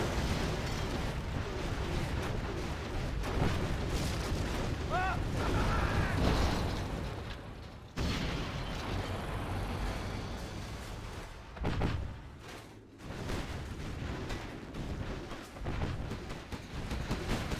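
Inferno Cannon artillery in a Command & Conquer Generals Zero Hour 1v1 tournament match, repeated heavy booming blasts and rumbling impacts rolling on through a busy battle mix, with occasional commentary voice.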